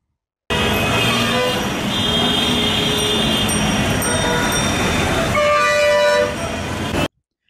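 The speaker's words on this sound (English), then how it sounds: "all the different sound of moving and honking vehicles really irritated her" Dense, steady traffic roar with vehicle horns honking repeatedly over it, loud and close throughout.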